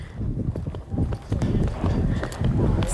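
Horse hooves thud in a rolling cantering rhythm on soft ground, with people talking over them.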